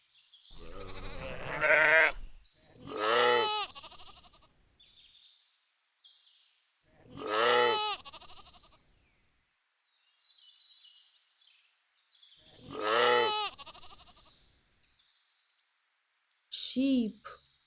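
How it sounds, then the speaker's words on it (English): A sheep bleats several times at a slow, uneven pace, each bleat loud and wavering, with faint bird chirps in the quiet gaps between calls. "Sheep."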